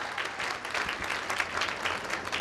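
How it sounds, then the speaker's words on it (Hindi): An audience at a gathering applauds in an even, sustained burst of clapping that sounds slightly distant and continues without a break. "जोरदार तालियां होनी चाहिए"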